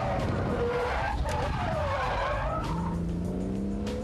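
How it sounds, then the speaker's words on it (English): A car skids with its front wheels locked under braking as it turns sharply, tyres squealing in long sliding tones over the drone of the engine, loud and close throughout. "Hit the foot brake to lock the fronts and bring that nose round even quicker"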